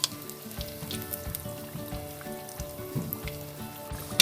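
Egg rolls frying in a pan of oil, a close, steady bubbling sizzle with fine popping crackles throughout, no speech.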